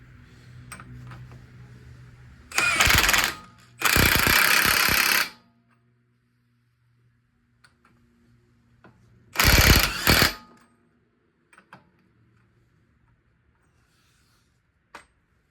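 Impact wrench snugging down a new 30 mm front wheel bearing bolt on a Toyota Corolla, firing in three loud close bursts, two back to back and a third after a pause, with quiet shop noise between.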